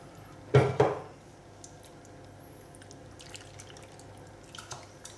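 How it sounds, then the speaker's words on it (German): A tin can clanks once or twice at the start as hot broth is swirled inside to rinse out the tomato remnants for a goulash, then a few faint drips and kitchen sounds follow. "Die Dose spülen wir nochmal mit der heißen Brühe aus."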